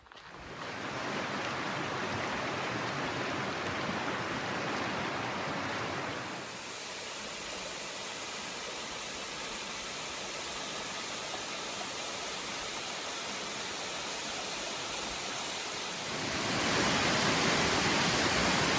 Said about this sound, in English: This is one of my favourite waterfalls in Tasmania.